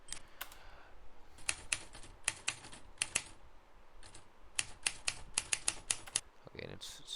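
Rapid typewriter-style key clacks in irregular bursts of strikes with brief pauses between runs, close and crisp against a quiet background.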